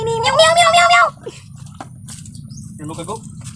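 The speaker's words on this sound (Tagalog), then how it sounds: "meow" A cat meows loudly and close up, a drawn-out, wavering cry in a home kitchen, followed by quieter scattered sounds and brief chirps over a low background hum.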